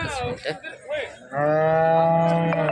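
A cow at a cattle market in Vairag lets out a loud, close, sustained moo after a moment of people talking nearby, the call holding steady to the end.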